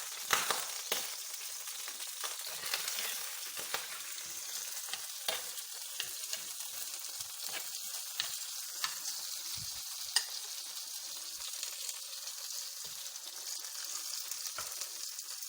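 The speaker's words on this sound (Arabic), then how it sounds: "نضيف عليه البصله" Onions frying in a pan for a lamb tagine, a steady close sizzle with occasional crackles and light stirring scrapes, no voices.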